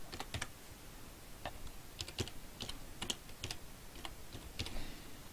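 Computer keyboard typing during bookkeeping work, posting day book entries into ledgers: irregular bursts of sharp key clicks with short pauses between them, fairly close and clear, no voices.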